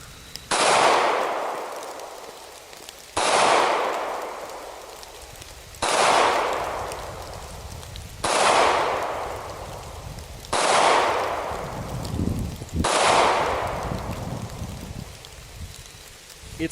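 A Sig Sauer P938 pistol fires six loud, sharp shots at roughly two-and-a-half-second intervals, each crack followed by a long decaying echo, close and alone with no talk.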